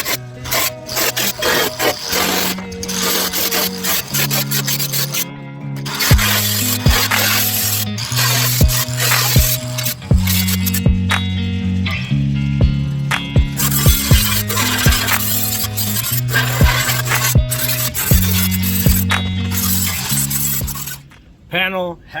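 Steel floor pan pieces being cut off a 1958 GMC pickup, a steady rasping, grinding cut with chattering metallic clinks running loud and continuous for most of the stretch before cutting out near the end, with a voice heard at times.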